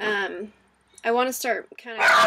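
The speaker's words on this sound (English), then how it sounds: "That's our dog." A dog gives short whimpering yips and a soft bark between bursts of a man's nearby speech indoors, the animal sounds brief and close.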